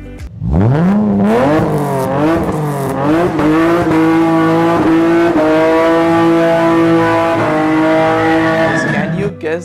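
A loud inline-six supercar engine revs up sharply and holds a high, rasping exhaust note, rising and dipping in pitch as it accelerates close by.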